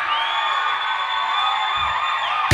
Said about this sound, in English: Can you give the Lord a clap and make some noise right here?